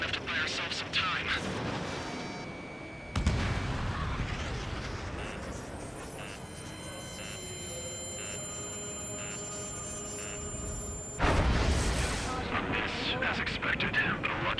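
A railgun fires in the jet combat game Ace Combat 7: two massive booming shots several seconds apart cut through engine drone and electronic cockpit tones, with radio voices talking in between.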